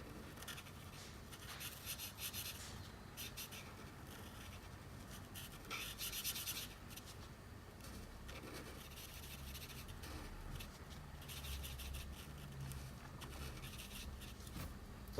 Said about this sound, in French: je commence avec un feutre à alcool noir et on va venir colorier nos pupilles et nos sourcils